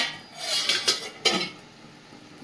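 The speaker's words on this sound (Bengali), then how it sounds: "ঢাকনাটা খুলে দেখে নেব।" Metal pot lid lifted off a simmering plantain curry, a few scraping clinks and rubbing metallic taps spaced across the moment, close and moderately quiet.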